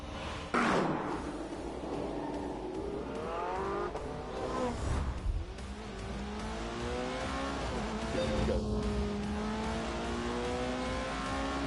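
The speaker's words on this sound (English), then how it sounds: "Soon the McLaren and the Porsche were ready for some shakedown laps." A Porsche 918 and a McLaren supercar run shakedown laps, engines rising and falling through the gears in loud sustained revving with shifting pitch, tire noise and brief mechanical knocks, up close throughout.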